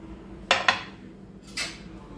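A spoon stirs appam batter mixed with grated coconut in a vessel, giving a few sharp metallic clinks and scrapes in a quiet room with no voices.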